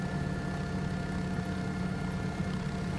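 A Bell 407 helicopter engine in the X-Plane 12 flight simulator drones steadily with a constant low rumble and faint steady whine, unbroken and with no voices.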